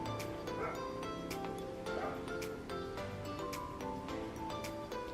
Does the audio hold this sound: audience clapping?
no